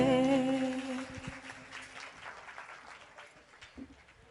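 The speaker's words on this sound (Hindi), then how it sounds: "आपकी इन्हीं तालियों के लिए कलाकार बहुत मेहनत करते हैं" An audience at a stage program on Somaiya ground breaks into applause as a song's sustained final notes fade, the clapping continuing as a steady, fairly loud patter that gradually thins out.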